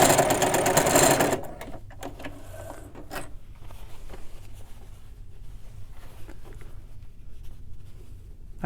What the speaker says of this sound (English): I'm just going to sew right here on this line